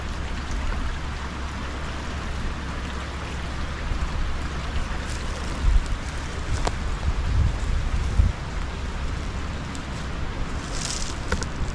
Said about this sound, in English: And here you can kind of hear the creek.